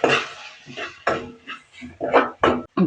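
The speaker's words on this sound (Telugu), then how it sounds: "పసుపు, ఉప్పు, కారం వేసుకొని కలుపుకుందాం." Spoon scraping and clattering in a pan as turmeric, salt and chili powder are stirred into an egg kuska rice dish, in irregular bursts of close metallic clinks and scrapes.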